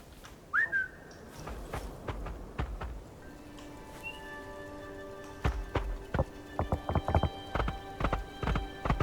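A horse mount in a video game, summoned by a whistle and then ridden, with a steady clip-clop of hooves that grows louder and quicker toward a gallop. A short whistle comes first, and a voice can be heard faintly.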